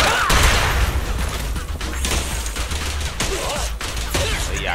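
Gunfire from the video game Zenless Zone Zero crackles in repeated rapid bursts and sharp reports, mixed with other in-game effects and punchy impacts throughout.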